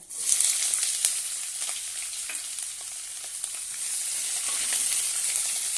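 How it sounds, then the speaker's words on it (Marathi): Sliced onions and curry leaves sautéing in hot oil, a bright continuous sizzle with faint stirring scrapes, close and steady for several seconds with no voices. "छानपैकी तेलामध्ये परतून घेऊया"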